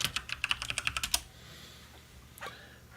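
Computer keyboard keys clicking rapidly in a game room, a quick run of sharp distinct clicks for about a second, then near silence with one faint click later.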